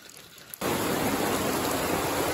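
Heavy storm rain pours down around an old log house. The dense, steady roar starts abruptly after a brief quieter moment and continues as a loud, even hiss.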